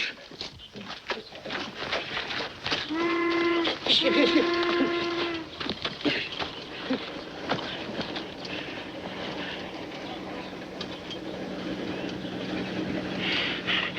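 A mail train in a 1940 western film, its steam whistle sounding in two long harmonic blasts near the start, over a steady rolling rumble of the locomotive and cars that continues to the end.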